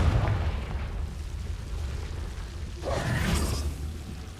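Confringo explosion spell cast in Hogwarts Legacy, a whooshing burst followed by a rumbling boom over a steady low background, moderately loud and single.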